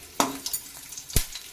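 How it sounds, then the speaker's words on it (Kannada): Curry leaves drop into hot oil in a pan, giving brief sizzling bursts with a couple of sharp crackles and light stirring sounds in between. "ಇದು ಎಣ್ಣೆ ಕೂಡ ಕಾದಿದೆ. ನೋಡಿ, ಇದಕ್ಕೆ ಕರಿಬೇವು ಕೂಡ ಹಾಕ್ತಾ ಇದ್ದೀನಿ."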